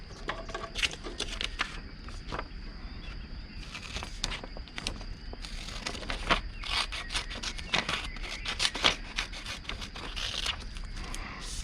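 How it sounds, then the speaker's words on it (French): Scissors snip through origami paper close up, a busy run of short crisp cuts and paper rustles with uneven rhythm throughout. "et maintenant je vais couper le long ici."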